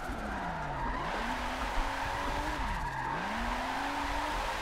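Drift car tires squealing and skidding through the Long Beach section of a racing sim, with a steady engine drone underneath and long wavering screeches rising and falling across the whole stretch.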